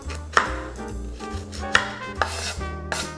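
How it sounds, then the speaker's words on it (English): Knife slicing an onion on a cutting board, four or five sharp, close chops spaced unevenly, each followed by a short ring. "I'm gonna slice it perpendicular. So I'm gonna slice it up and down."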